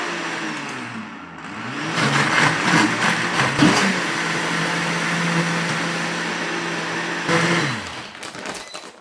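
A blender whirs steadily while blending dragon fruit with water, a loud close motor drone with a rising pitch at the start and a brief surge near the end before winding down.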